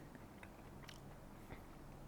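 Someone bites and chews a crunchy Hello Panda cookie, with a few faint, brief crunches close to the mic against a noisy background.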